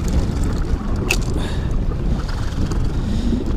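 Strong wind buffets a fishing boat out on wavy water during a musky trolling tournament, a loud constant low rumble with microphone gusts and no talk.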